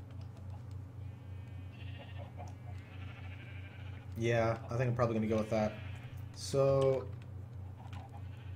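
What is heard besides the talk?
sheep bleating in a Minecraft video game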